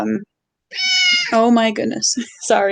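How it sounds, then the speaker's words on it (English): A pet cat meows in a long, clear, drawn-out cry close by, with people talking around and after it. "that's my cat"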